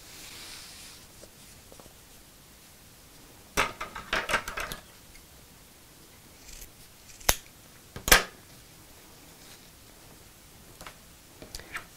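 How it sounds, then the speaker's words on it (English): Scissors snip through bag webbing, a few sharp crisp cuts in short clusters with quiet pauses between, close and clear against a hushed room. "we're going to cut that in half."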